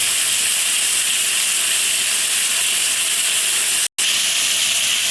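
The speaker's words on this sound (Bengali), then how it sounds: "একটু নুন, হলুদ, একটু কাঁচা লঙ্কা দিয়ে কচুটাকে আমি সিদ্ধ করে নেব।" Taro simmering in a pot of water with salt, turmeric and green chili, giving a steady, even bubbling hiss that fills the background with no talking.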